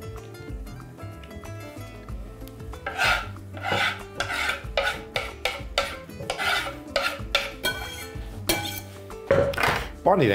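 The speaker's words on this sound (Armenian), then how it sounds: "Պանիր ենք քերում։" Fatty melting cheese rubbed against the large holes of a grater in a home kitchen, rhythmic rasping strokes close to the mic after a quieter start, with occasional knocks and clinks between passes.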